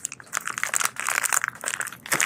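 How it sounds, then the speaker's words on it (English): A plastic bag is torn open while unboxing a PROFlex strap, giving close, continuous crinkling and crackling bursts for about two seconds with no talk over them. "So we're going to open up this plastic bag here"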